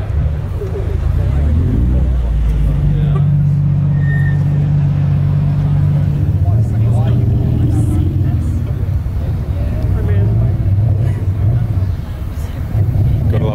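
A car engine idles and revs close by at a car meet at night, a steady low rumble that lasts throughout, with people talking over it.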